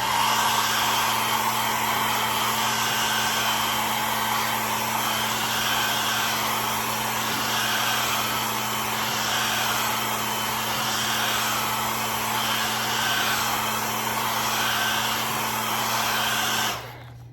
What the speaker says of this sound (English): I'm going to blast it with the dryer.